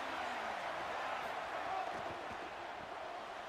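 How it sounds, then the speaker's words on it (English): Broad roar of a stadium crowd in an American football video game, steady and loud throughout, with no other distinct sounds standing out. "Listen to this crowd just shaking the girders of this place, trying to help their defense."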